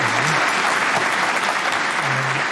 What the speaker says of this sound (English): Is the applause very, very loud?